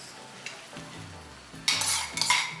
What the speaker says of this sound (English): I'm now gonna go ahead and add the rest of the veggies, beginning with the tomatoes